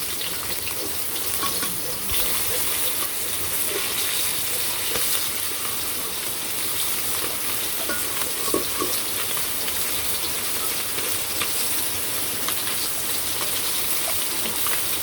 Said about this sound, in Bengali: আসলে বাইরে বৃষ্টি নামছে, কারেন্টও নেই, সেই কারণে একটু অন্ধকার।